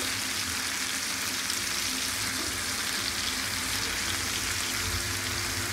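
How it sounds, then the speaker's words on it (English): Mushrooms and onions fry in a pan, a steady dense sizzle like rain on a surface, close and continuous with no talk. "This is the mushrooms and onions right now that we're cooking up."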